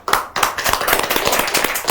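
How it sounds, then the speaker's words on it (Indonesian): A studio audience claps for a podcast guest, a politician, with dense, continuous clapping that starts abruptly and holds loud and close for about two seconds. "Oke, kita tepuk tangan untuk Ibu Revita."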